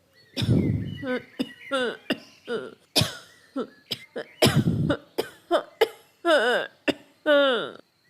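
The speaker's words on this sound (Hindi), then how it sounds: "वो सारी रात खांसी करता रहता है।" Close, harsh coughs come in bursts, broken up by short throaty vocal sounds and gasps, like a fit of coughing that keeps going.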